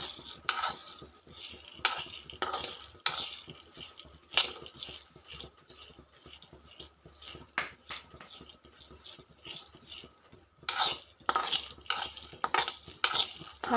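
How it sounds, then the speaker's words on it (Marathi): Green mung bean pods roast in a pan while being stirred now and then, giving sharp metallic scrapes and clinks in irregular bursts over a faint, quiet sizzle, busiest near the end. No voices. "मुगाच्या शेंगाचे सोले इथे छान असं मस्त भाजून घेत आहे थोडं थोडं हलवून असं छान मस्त भाजून घ्यायचं"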